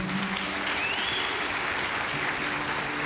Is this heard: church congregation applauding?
yes